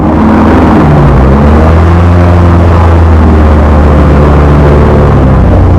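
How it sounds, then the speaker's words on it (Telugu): An airboat engine runs steadily in the Everglades of Florida, a loud, continuous low-pitched drone with heavy rumble and a constant roar filling the whole stretch, no voices over it. "ఆ ఇంజన్ సౌండ్ మీరు కూడా వినండి."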